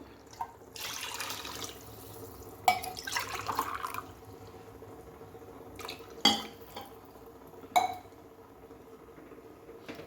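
Water is poured into rice in a cooking pot while making mintiya bath, heard as a few soft splashing pours with occasional sharp clinks against the pot, quiet and without talk.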